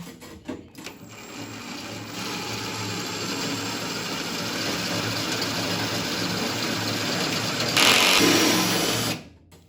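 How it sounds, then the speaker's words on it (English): A steady, high-pitched power drill whine runs continuously for several seconds while drilling out a rivet on a 1975-79 Chevrolet Nova door, rising slightly in intensity near the end before cutting off abruptly. "So I'm just going to take a drill."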